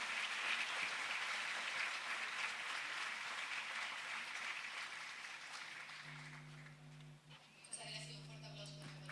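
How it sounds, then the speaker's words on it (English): An audience at a congress of interviewers applauds, a broad, sustained crowd clapping that gradually thins and gives way to a voice amplified over a public address system. "A round of applause for you, for all the work you have been doing."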